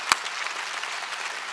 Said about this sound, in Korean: 박수 세게 치라고 세게.